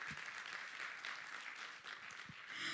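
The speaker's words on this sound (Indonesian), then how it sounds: "Tepuk tangan." Audience applause at an inauguration ceremony for a television company's president commissioner fills the hall with a steady, moderately distant patter of many hands that continues throughout.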